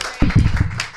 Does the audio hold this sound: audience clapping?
yes